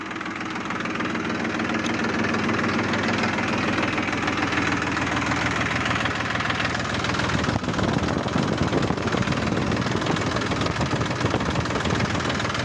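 A New Holland 3510 diesel tractor engine idles steadily and loudly up close, a continuous rumbling chug with a faint knock, no voices over it.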